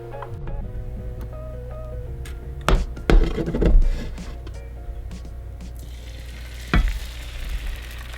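A farm fresh egg omelet fries in a pan with a soft continuous sizzle, broken by a few louder scraping and tapping bursts as a utensil works around the edges.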